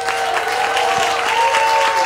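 A brief, steady burst of audience applause in a television studio, dense and even, with a faint held tone running underneath.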